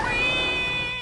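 A house cat lets out a loud, drawn-out meow at close range, a single sustained cry with no talking over it.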